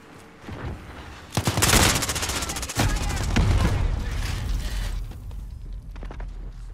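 Assault rifles rattle in a video game shoot house, quiet shots at first, then loud sustained automatic bursts close by from about a second and a half onward, easing off toward the end.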